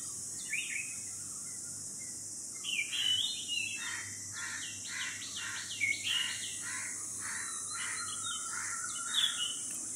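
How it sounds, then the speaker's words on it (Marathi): Morning birdsong in a rural setting where cuckoos and crows are about: repeated whistled phrases and chirps come in bursts at moderate distance over a low steady hum, with no talking. "मस्त वाटतं सकाळचं पक्ष्यांचा, सर्व पक्ष्यांचा आवाज."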